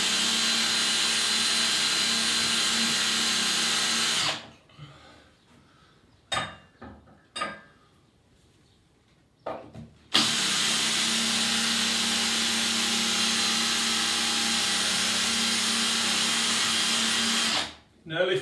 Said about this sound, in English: because we're drilling right on the edge of the tile